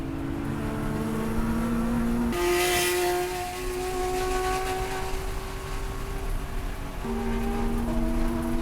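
An E36 race car from Palomar Racing runs in the E2 class during the 2022 WERC enduro at Willow Springs. A loud, close in-car engine drone holds steady between abrupt gear shifts, over constant wind and road hiss.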